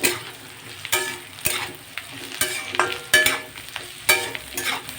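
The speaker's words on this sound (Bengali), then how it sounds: "এবার আমি এর মধ্যে সবজিগুলো তুলে দেবো।" Raw vegetables tossed into lightly fried onions in a pan for a pui shak recipe with fish head, giving a steady sizzle broken by repeated sharp clanks and scrapes of stirring, close and loud with no talking.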